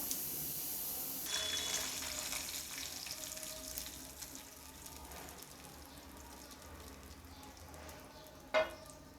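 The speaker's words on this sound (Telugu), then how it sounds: "ఇప్పుడు దీన్ని పోపు వేసుకుందాము" Oil hisses and crackles as tempering (popu) is added for a Telugu coconut and red chili chutney, a steady broadband sizzle that is loudest early and gradually settles, with a brief clatter near the end.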